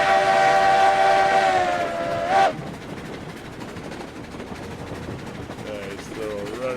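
A steam locomotive, number 1024, climbs a hill in the RailRoads Online game. Its loud whistle holds for about two seconds and then cuts off, leaving a quieter chugging rumble. A short whistle returns near the end.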